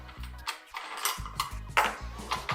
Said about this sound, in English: flick up the little paddle there. Just twist it until it locks off.